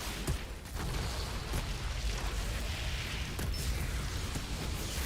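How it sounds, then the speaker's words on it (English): A thermal bomb explodes in the video game Outriders, heard as a sustained, loud, rumbling roar with a few sharper bursts scattered through it. "Making work of that thermal bomb explosion there."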